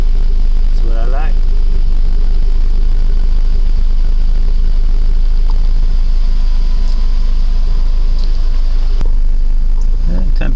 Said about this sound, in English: We're idling somewhere around 850, 900.